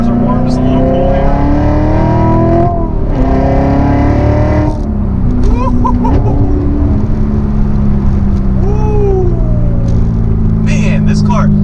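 A 2023 Chevrolet C8 Corvette Z06 pulls hard with loud, close engine revs rising through the gears and brief shift breaks, with someone talking over the engine.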